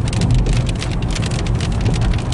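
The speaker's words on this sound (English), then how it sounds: "Hopefully you can hear the sound of rain" Steady heavy rain falls outside, a loud continuous hiss of drops drumming on surfaces with no pauses, close and enveloping throughout.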